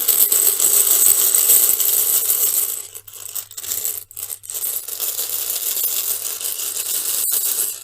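Pebbles are shuffled by hand in a steady, dense rattle and clatter, close and fairly loud, with a few short pauses in the middle and no talking.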